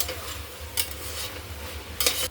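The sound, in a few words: stirring yogurt into soybean pulao in a pan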